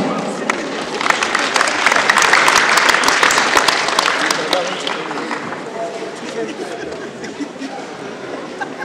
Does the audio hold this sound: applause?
yes